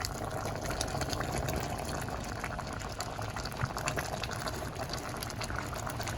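Jamaican stew peas sauce thickening in a pot bubbles and simmers in a dense, steady gurgle, close and continuous with no talk.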